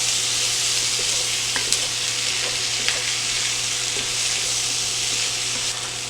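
Potatoes frying in butter and oil in a skillet, a loud, continuous crackling sizzle up close, with occasional sharp pops and a low steady hum beneath, no voices.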